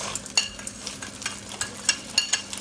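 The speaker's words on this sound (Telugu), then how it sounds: "పులిహోరకు పోపు కదా" Pulihora tempering of chana dal, urad dal, cashews and split green chillies frying in a pan, a continuous close sizzle broken by repeated scraping stirs and small spatters, no speech.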